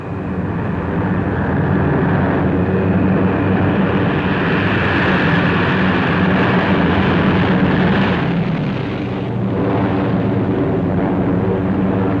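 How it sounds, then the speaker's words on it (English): Waves of WWII bomber aircraft flying overhead, a dense, continuous engine roar that holds steady and loud for several seconds before easing slightly near the end, with no voices. "One observer called the seemingly endless waves of planes the most imposing aerial parade I have seen since the beginning of this long war."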